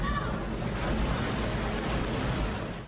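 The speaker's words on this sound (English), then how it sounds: "Neighbors try to outrun a monster wave as water gobbles up sand dunes and fills the road." Huge ocean surf crashes onto the beach at Ventura as a big wave breaks and surges in. It is a steady, loud, broad roar with wind rumble pressing on the microphone.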